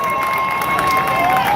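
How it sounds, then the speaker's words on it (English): Crowd applause and cheering at a Trinidad All Stars steelpan day celebration in a panyard, a dense, steady wash of clapping with sustained tones ringing through it. "Please give a round of applause"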